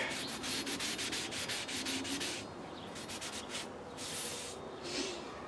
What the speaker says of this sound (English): Give it a quick wipe down with a old holy sock so that we don't have chemicals reacting with each other